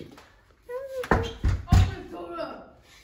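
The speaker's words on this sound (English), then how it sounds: "Open the door. Don't be banging on the door." Someone bangs on a door with three heavy, booming thuds in quick succession, near and loud, while voices talk and call out around the knocks.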